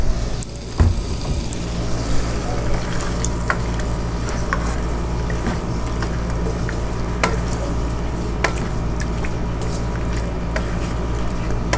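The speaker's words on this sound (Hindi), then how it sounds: "हम मटन को अच्छे से भूनेंगे।" Mutton frying in oil inside an Instant Pot, a steady, close sizzle running throughout with occasional sharp clicks and stirring knocks over a constant low hum.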